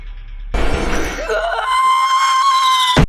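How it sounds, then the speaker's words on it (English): A woman in a film screams while giving birth, a long, loud, strained cry that starts abruptly and rises into a sustained high wail, then cuts off sharply. "Evelyn can't hold back her screams anymore and starts yelling."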